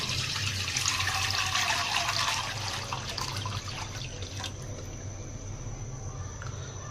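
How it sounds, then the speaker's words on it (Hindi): Milk poured into a cooking pot for homemade milk peda, a steady continuous liquid rush that fades slightly partway through, close and fairly loud with no voices. "सबसे पहले हम दूध डाल लेंगे।"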